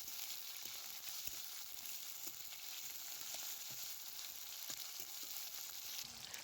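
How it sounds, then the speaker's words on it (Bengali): Tomato frying with spices in a pan for a Bengali banana-flower dish gives a steady, close sizzle with crackling. Faint stirring taps come through now and then, and no one speaks. "টমেটোটিকে আমরা মশলার সঙ্গে একটু ভেজে নেব"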